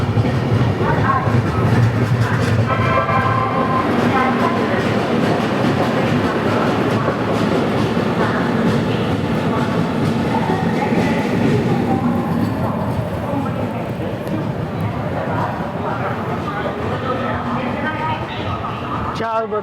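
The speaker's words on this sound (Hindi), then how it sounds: "4:59 पर हमारी ट्रेन पहुंची है वलसाड़।" Mumbai–Ahmedabad Double Decker Express, train 12931, pulling into Valsad: a loud, continuous rumble of coaches with clickety-clack wheel beats, steady throughout, with people talking underneath.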